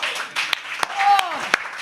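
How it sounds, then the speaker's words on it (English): Studio audience applause opening a live health panel discussion show: a brief burst of clapping and cheering with a few sharp claps standing out, heard together with voices. "Round of applause."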